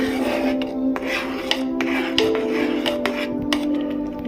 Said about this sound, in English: Stir the puree well until it starts thickening.